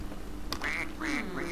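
Three nasal quacks from a duck in the Scribble video game, close and distinct, each a short rising honk over a faint background hum.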